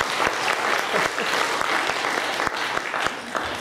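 A church audience claps steadily for a pianist accompanist, with dense, close applause holding at an even level for the whole stretch and no voices over it.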